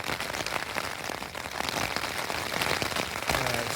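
Rain pours steadily off the lid of a tent vent on a Stormgrotta 2P tent, a dense, close patter of drops drumming on fabric with no voices.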